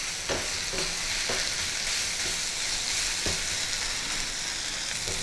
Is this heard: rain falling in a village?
no